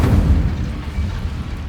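A heavy fiery burst from the Incendio spell in Hogwarts Legacy: a loud, deep boom at the start that decays into a rumbling tail over under two seconds, with no talk.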